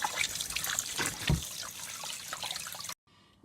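Tap water runs and splashes steadily into a sink while a fish is washed by hand, close and continuous with small trickling bursts, then cuts off suddenly near the end.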